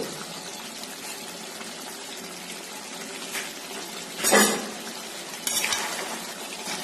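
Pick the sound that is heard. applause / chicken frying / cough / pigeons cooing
chicken frying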